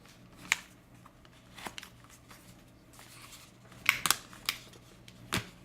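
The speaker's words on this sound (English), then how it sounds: "they fold up pretty small" Audio Technica ATH-M50x headphones folding up, a few soft plastic clicks and rustles scattered through quiet handling, with a cluster of sharper snaps near the end.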